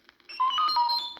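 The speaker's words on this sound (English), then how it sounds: "You will know it is time to turn the page when you hear R2-D2 beep like this." A short electronic R2-D2-style droid beeping and warbling, a quick run of high chirpy tones signalling a page turn on a vintage Star Wars record, close and clear, with no talking.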